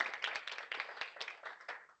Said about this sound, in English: Let's give our innovation specialist a big round of applause.